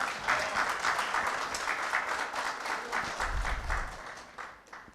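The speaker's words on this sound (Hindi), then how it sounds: "एक बार जोरदार तालियां" An audience at a Hindi-Urdu poetry recital bursts into sustained, dense applause, many hands clapping together evenly for several seconds before tapering slightly at the end.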